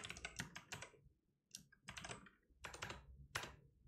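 Python code being typed on a phone keyboard in the Termux app: rapid bursts of soft taps in several short clusters with brief pauses between them, close and fairly quiet, with no talking.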